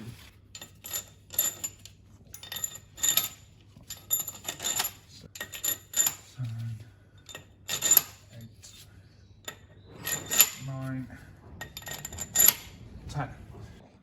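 Metallic ratcheting and clinking of a wrench tightening new cylinder head bolts on an Audi A3 engine, irregular bursts of sharp clicks with someone speaking briefly in between.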